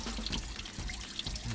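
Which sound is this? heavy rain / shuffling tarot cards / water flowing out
water flowing out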